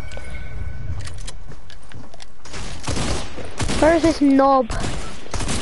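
Gunfire in a PS4 shooter game comes through as dense bursts and crackle, mixed with game noise and a brief tonal effect, while a player talks over it.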